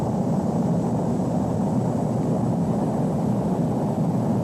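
Steady broadband engine roar of a Boeing B-47 Stratojet in Flight Simulator X, a continuous jet drone holding level throughout with no talk.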